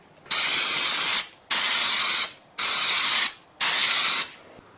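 Zinc primer hisses from a spray can onto the inside of a car floorpan box section in four even bursts of about a second each, separated by short pauses, close and loud.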